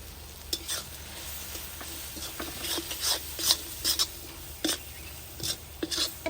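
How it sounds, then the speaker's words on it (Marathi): Vegetable masala Maggi is stirred and sautéed in a pan over a wood-fired stove, with a soft background sizzle and repeated scraping strokes of a spatula at an uneven rhythm, close up. "थोडीशी मॅगी पण परतून घेणार आहे"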